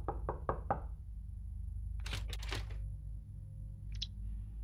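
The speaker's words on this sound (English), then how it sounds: "Okay, so why did the knocking stop?" Four quick, close knocks sound on a door in the horror video game Charon's Staircase, followed by quieter scraping noises over a low ambient hum.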